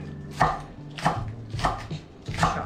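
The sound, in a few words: chopping spring onions with a knife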